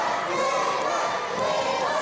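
A wrestling crowd at a Fight Factory event roars in a steady, dense wash of cheering and shouting that holds at constant loudness throughout.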